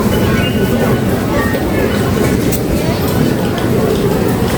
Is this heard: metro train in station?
yes